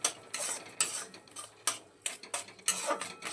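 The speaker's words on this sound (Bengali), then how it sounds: "চিনিটা ভালো করে ছানার সঙ্গে মিশিয়ে নেব" Sugar being stirred into fresh chhana in a pan for a raw-mango kalakand, heard as close, repeated scraping and clinking strokes of a utensil against metal in an irregular rhythm, with no talk.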